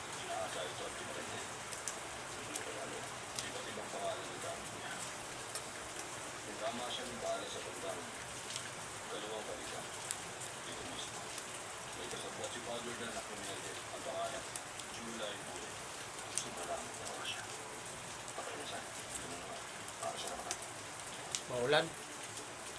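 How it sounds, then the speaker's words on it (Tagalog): Rain falls steadily on a rainy day at home, a soft, continuous patter with scattered louder drops and faint background activity, fairly quiet throughout. "Maulan ngayong araw."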